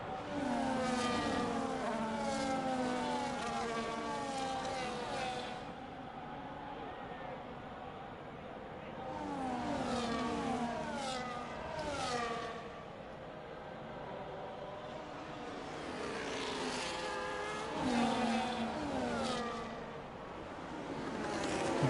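A pack of race cars runs nose to tail around the reversed Silverstone circuit in a sim racing game. Engines whine and rise and fall in pitch, steady throughout, beneath continuous race commentary.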